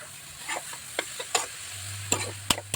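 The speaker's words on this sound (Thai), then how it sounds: "จากนั้นเราก็ใส่ลูกชิ้นลงไปผัดเลยค่ะ" Minced pork and pork meatballs stir-fried in a pan: a spatula scrapes and knocks in irregular bursts over a faint sizzle and a low steady hum, with no voices.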